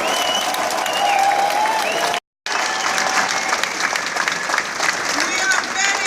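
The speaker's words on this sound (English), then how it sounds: "round of applause for both of them" Sustained crowd applause and cheering at a political rally in Newcastle upon Tyne, loud and steady throughout, with a brief dropout partway through and voices mixed in.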